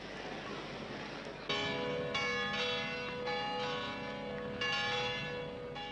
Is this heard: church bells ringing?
yes